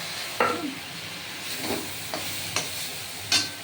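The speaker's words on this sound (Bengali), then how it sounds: "মশলাটা কষানো হয়েছে এর মধ্যে আমি চাল দিয়ে দেবো" Rice is added to a fried spice mix in a pan for a fish-head rice dish: a soft background sizzle and hiss, punctuated by a few scattered scrapes and knocks from stirring.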